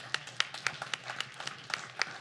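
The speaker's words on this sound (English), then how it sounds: "That is an opportunity to clap." Church congregation clapping during a sermon, a scattered round of sharp individual claps at an uneven rhythm, moderately quiet and heard alone without talk.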